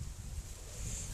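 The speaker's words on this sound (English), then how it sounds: "I apologize for the wind." Low buffeting wind rumble batters the microphone continuously for a moment, with a faint airy hiss above it.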